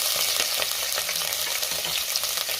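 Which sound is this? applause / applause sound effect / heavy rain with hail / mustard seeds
mustard seeds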